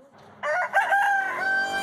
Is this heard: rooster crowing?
yes